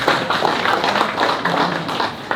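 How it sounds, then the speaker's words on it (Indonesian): Audience at an outdoor community gathering in Kebumen clapping hands together, a steady patter of many claps, fairly close and continuous, with no speech over it. "Tepuk tangan semuanya."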